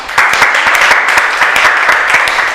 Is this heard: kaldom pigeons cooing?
no